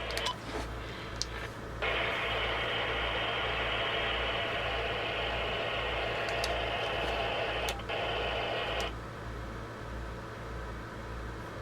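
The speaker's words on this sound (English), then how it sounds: "You can hear a little static in the background." Steady hiss of static from a TIDRADIO TD-H3 handheld ham radio receiving a weak signal, rising louder for several seconds and then dropping back to a softer hum.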